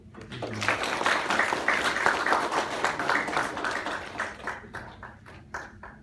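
An audience at a company tech talk session breaks into a burst of applause, dense clapping that holds for several seconds and then thins out toward the end.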